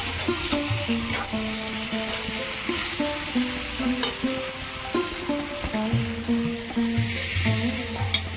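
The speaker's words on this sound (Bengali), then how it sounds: "এবার আমি জল দেব" Water poured into a pan of frying vegetarian jackfruit curry with potatoes, a constant loud sizzle with stirring and clinking utensils throughout, no talk.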